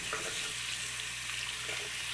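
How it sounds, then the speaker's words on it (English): Tap water runs steadily into a sink while a brush scrubs the drain, giving a soft continuous hiss and splash with no talking. "And then I just turn on the water and brush it really good"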